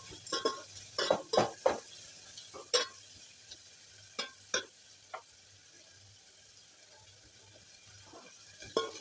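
Onions fry in oil for Betageri chutney, a soft sizzle beneath a series of sharp scrapes and clacks from a spatula stirring the pan, bunched early then spaced out.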